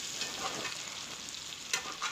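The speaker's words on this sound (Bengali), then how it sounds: "কিছুক্ষণ নাড়াচাড়া করে চিনিটা আমি গলিয়ে নেব।" Sugar being stirred into an olive and garlic pickle in a pan to melt, a gentle continuous sizzle with soft stirring scrapes and a couple of faint clicks, heard close with no speech.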